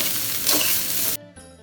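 Eggs stir-fried in a pan for a simple Thai egg fry-up give a loud, steady broadband sizzle that cuts off abruptly, leaving a faint tonal hum.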